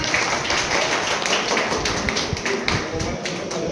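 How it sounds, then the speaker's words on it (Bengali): Applause welcoming a teacher at a teachers' training institute event, a dense burst of many hands clapping steadily from a nearby crowd, with voices underneath. "একটু জোরে হাততালি"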